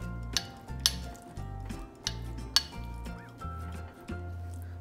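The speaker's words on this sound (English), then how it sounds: "So now, let's mix the vegetable mixture." A vegetable mixture is stirred together with grated paneer in a bowl, with a steady run of soft scraping and stirring punctuated by several light clinks of a utensil against the bowl.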